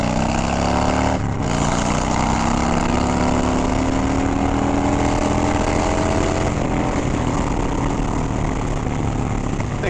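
A loud hot rod engine roars continuously up close, its pitch climbing steadily as it revs higher, with a brief dip early on.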